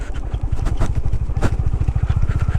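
Honda Highness motorcycle engine thumping steadily up close while riding a rocky off-road trail, a rapid regular pulse with rattling clatter over it.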